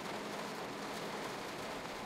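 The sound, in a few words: rain in the video game Train Sim World 2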